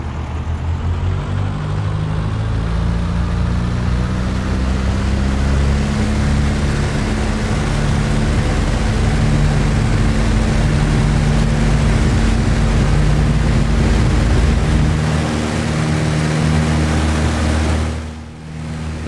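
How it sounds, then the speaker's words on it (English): A Piper PA-38 Tomahawk engine in X-Plane 11 holds a loud, steady drone with a constant pitch through the takeoff roll, running without a break before a brief dip near the end. "we're going to scream down the runway and rotate at 60 knots and do our best climb at 70"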